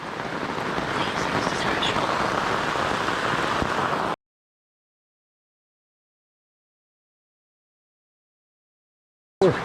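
Heavy rain pours steadily onto a tent at a motorcycle camping event, a dense, loud hiss of drumming drops that cuts off abruptly into silence.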